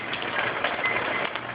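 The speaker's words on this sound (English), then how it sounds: "Wind and rain, rain and wind, lulls." Steady broadband hiss of rain falling during Tropical Storm Isaac, a dense, constant wash of sound with no voices, fairly quiet throughout.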